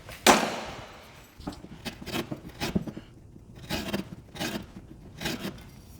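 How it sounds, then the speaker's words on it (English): A sheetrock saw cuts through drywall down to a stud in a series of short rasping strokes. After one sharp opening scrape, the bursts repeat at an uneven pace with quiet gaps between them. The sound is close and clear with no talking. "The nice rough edge on this sheetrock saw really digs in."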